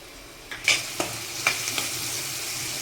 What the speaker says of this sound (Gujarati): હાલો 5 મિનિટ હવે આને ટમેટાને થોડાક પાકવા દેવો